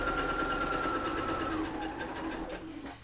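Sewing machine stitching small quilt block pieces together, a close, continuous rapid mechanical hum and chatter that holds steady for about three seconds before slightly slowing at the end.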